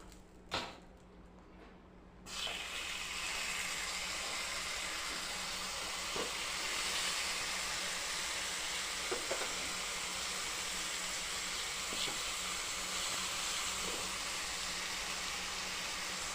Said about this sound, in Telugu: లైట్ గోల్డెన్ బ్రౌన్ కలర్ వచ్చేందుకు ఫ్రై చేసుకొని సర్వ్ చేసుకుంటే రెడీ